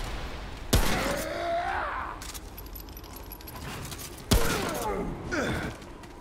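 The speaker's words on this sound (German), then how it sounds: "das war ein guter Schuss" Gunfire in the video game Remnant: From the Ashes: two sharp, loud shots about three and a half seconds apart, each followed by a ringing, scraping tail, with quieter game noise between them.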